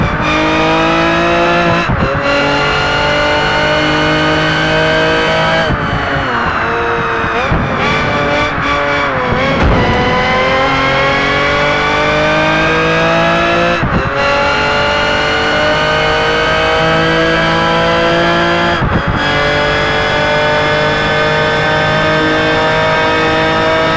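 A race car engine in Project Gotham Racing 4 screams at sustained high revs near the rev limiter, loud and continuous, with brief dips at gear changes and some tire noise.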